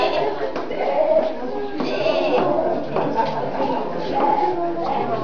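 Sheep bleat close by as a shepherd drives the flock back to the fold, several overlapping wavering cries rising over a steady murmur, with someone speaking throughout.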